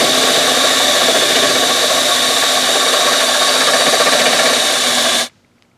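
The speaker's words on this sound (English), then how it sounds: "put a 1/2 inch drill bit and simply drill out this center bolt hole." A power drill with a half-inch bit whines loudly and continuously with a grinding bite for several seconds, drilling out a center bolt hole on a Ford Super Duty front end, then cuts off abruptly into near silence.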